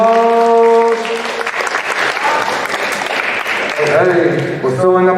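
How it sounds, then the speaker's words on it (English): Audience applause welcoming a newly arrived knight at a virtual school assembly, a dense steady clapping texture running the whole time, with harmonic tones of music or voices at the start and end. "Let's give him a round of applause."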